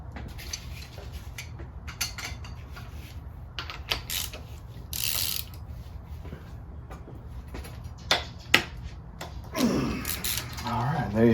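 A ratchet clicks in short, irregular bursts while removing a bolt from a VG engine during a timing and cylinder head teardown. Metallic clinks mix in, with a voice heard now and then.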